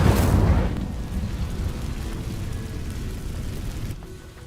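An Incendio fire spell in Hogwarts Legacy ignites dry vines, opening with a loud whooshing burst that settles into a sustained roaring burn and gradually fades.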